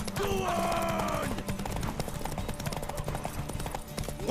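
Rhythmic clip-clop of a horse galloping in The Witcher 3, steady hoofbeats running throughout alongside game music and a brief whinny-like tone, with voices faint in the mix.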